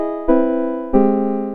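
Replay synthesizer playing two struck notes in sequence, each a bright, harmonically rich tone with a sharp attack and a gently decaying sustain, clear and heard alone.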